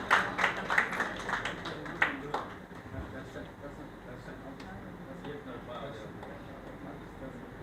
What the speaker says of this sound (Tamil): கரகோஷங்கள் மூலமாக தங்களுடைய வாழ்த்துக்களை தெரிவிக்கலாம்